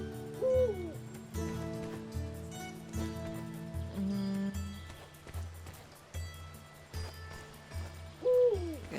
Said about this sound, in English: You are loud, Mr. Owl.